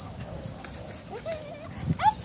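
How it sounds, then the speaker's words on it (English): Young puppies tug at a rag, giving off small growls, whimpers and high yips in quick bursts, close and fairly loud. "Puppies on the rag."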